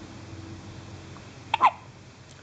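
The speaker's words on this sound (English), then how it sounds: "Oh, you got the hiccups." A one-day-old newborn baby gives a single soft, close hiccup against quiet room noise.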